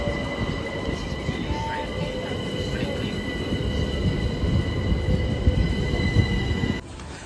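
A train rumbles along with rattling wheels and a faint squeal, loud and close, continuous for most of the clip before abruptly quieting.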